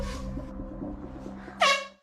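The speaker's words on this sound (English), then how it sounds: "keep standing out there blowing an air horn repeatedly" An air horn sounds one sharp, loud blast near the end, after a low steady hum with no voices.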